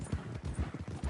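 A horse's hooves clip-clop at a steady trot in the Red Dead Redemption 2 video game, four regular heavy beats over a busy, noisy background.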